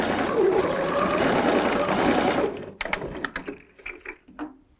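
A sewing machine stitches a children's jumpsuit in a steady whirring run of a couple of seconds, then breaks into a few short bursts and clicks between pauses.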